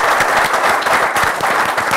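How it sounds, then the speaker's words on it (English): Conference audience applauding participants at a 2014 Asia security outlook meeting in the Philippines: a thick, continuous burst of clapping from a full room, loud and even for the whole moment. "A round of applause."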